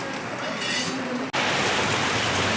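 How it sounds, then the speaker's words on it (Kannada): Heavy rain pouring outdoors on a Mysore street, a loud dense hiss with light clinks, broken by a brief dropout midway, then resuming just as strongly. "ಇಲ್ಲೇ ಈ ಥರ ಪರಿಸ್ಥಿತಿ, ಫುಲ್ ಜೋರು ಮಳೆ."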